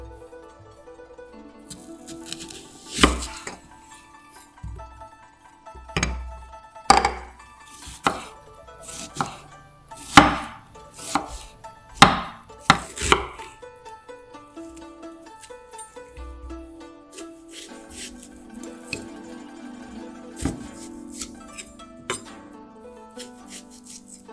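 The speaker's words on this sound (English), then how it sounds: "Then, thinly slice half onion." Knife thinly slicing half an onion on a board, a series of sharp irregular chops that bunch into quick runs, then lighter scraping taps, close and clear with no talk.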